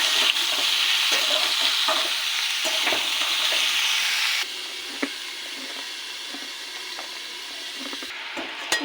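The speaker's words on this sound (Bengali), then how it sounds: "আস্তে আস্তে ভাজবো।" Mixed vegetables frying slowly in a pan give a steady sizzle with occasional stirring scrapes and taps. The hiss drops to a softer level halfway through and carries on quietly, with no talking.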